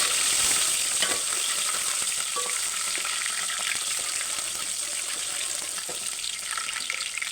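Green chillies and cumin fry in a pan for tomato rice, a loud steady sizzle with scattered crackles and soft stirring scrapes, close and with no voices.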